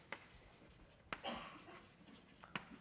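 Chalk scratches and taps on a board during a physics lecture, with a few sharp strokes and a brief scraping stretch, faint and close, and no talking.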